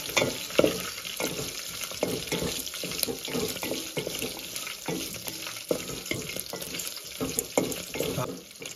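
Dry red chillies frying in tempering oil over a low flame, a steady crackling sizzle with scattered pops running throughout, loud and close with no talking.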